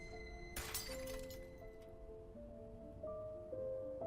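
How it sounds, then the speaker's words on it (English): Glass shatters in a snowbound cabin, a sharp bright crash followed by a short tinkling spill of fragments, with a low sustained hum continuing underneath and no talk. "And then I heard glass break."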